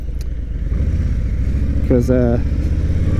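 A 2020 Harley-Davidson Low Rider S rumbles steadily on a ride, its deep engine drone continuous under a brief spoken word.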